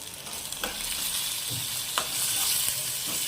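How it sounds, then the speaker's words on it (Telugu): Ginger and tamarind frying in a pan give a steady, close sizzle, broken by a few sharp stirring clicks and scrapes. No one speaks. "ఒక చిన్న ఇంచు ముక్క అల్లం, కొద్దిగా చింతపండు వేసుకొని మనం ఫ్రై చేసుకోవాలి."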